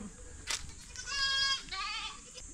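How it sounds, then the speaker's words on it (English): Goats bleat nearby on a Philippine property, two or three wavering, nasal cries in quick succession with no talking over them. "these are her goats, and this is the neighbor's goat"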